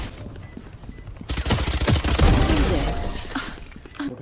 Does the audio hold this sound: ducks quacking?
no